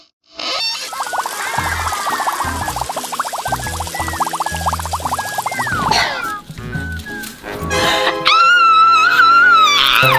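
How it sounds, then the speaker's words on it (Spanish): Water gushing out of an unblocked pipe, a loud, continuous pouring rush that starts abruptly and carries on for several seconds, with squeaky high cries and shouting layered over it toward the end. "¡Viene el agua!"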